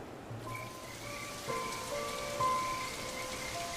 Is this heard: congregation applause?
no